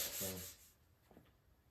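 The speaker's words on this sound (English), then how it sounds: "we'll give it a quick scuff so the finish will fix it" A short, close rasp of sandpaper scuffing the finish on a wooden stained glass window frame, one brisk stroke followed by a faint rub.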